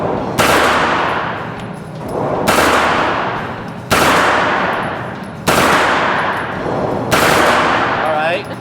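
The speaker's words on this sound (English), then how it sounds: "So, how'd you like shooting the Colt 9mm SMG?" A Colt 9mm SMG submachine gun fires five loud, sharp bursts in quick succession outdoors. Each blast rings out and decays before the next one follows.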